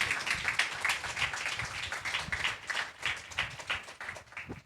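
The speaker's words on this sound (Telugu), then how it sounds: "చప్పట్లు కొట్టి దేవుని మహిమపరుస్తాం." A church congregation claps together during a service: a dense, uneven patter of many hands at moderate loudness, continuing for several seconds with no talking.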